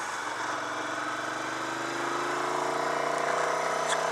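2001 Ducati 900 SuperSport motorcycle engine running, a steady close mechanical hum with a rhythmic twin-cylinder pulse, rising slightly in pitch and loudness toward the end.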